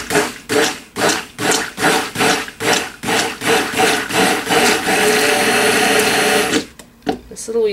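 Stick blender whirring in rapid pulses through lemongrass cold process soap batter, a loud buzzing burst of about a dozen short blitzes merging into one continuous run before cutting off.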